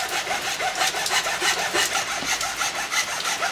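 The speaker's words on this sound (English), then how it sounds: "so it needs to be filed down to the right size" A wooden fretboard for a cigar box guitar is filed down to size by hand, giving steady back-and-forth rasping strokes, close and fairly loud, in a quick continuous rhythm with no talk.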